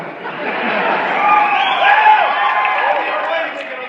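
A large crowd applauds and cheers for Buzz Aldrin, a steady wash of clapping and murmuring voices that swells slightly midway, with a few audible laughs.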